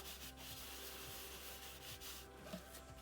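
Soft, quiet papery rubbing and dabbing of a paper towel lifting alcohol ink from a card continues steadily in close, brushing strokes, with no talking.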